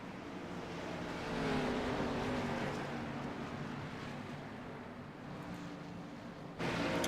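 Race cars in a racing video game at Daytona roar back up to speed on a green-flag restart after a pace car period, a steady, loud layered engine drone with rising pitch and a brief surge near the end.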